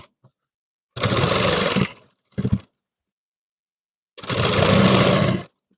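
Sewing machine stitching the folded neck edge of a blouse, three separate bursts of fast whirring, a long run, a short stutter, then another long run, with silence in between.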